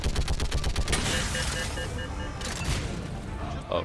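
Rapid turret gunfire in Mass Effect 3, loud bursts of repeated shots with crashing impacts, continuous over the whole stretch and close up.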